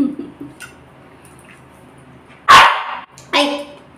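A dog gives two sharp barks in close succession, loud and near, with faint clinks and rustling beforehand.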